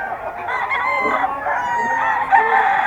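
Ten-month-old bull stag gamecock rooster crowing nearby in a loud, drawn-out cock-a-doodle-doo lasting nearly three seconds, with faint background chatter.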